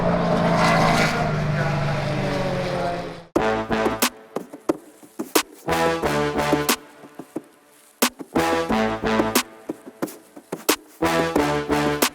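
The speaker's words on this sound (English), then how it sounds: "So we've got more historic touring cars out there." Historic touring cars race past at Sandown Raceway: a loud engine roar at the start, then a series of buzzing engine passes that rise and cut off sharply, one after another.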